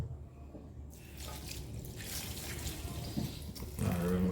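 Tap water runs into a sink while something is rinsed in a Jamaican home kitchen during the preparation of callaloo and saltfish, a steady close splashing flow that grows louder near the end.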